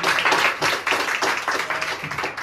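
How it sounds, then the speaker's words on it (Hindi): An indoor audience claps together in a brisk, dense burst of applause that keeps pulsing for a couple of seconds, heard close and loud with no talk over it. "एक बार जोर से ताली"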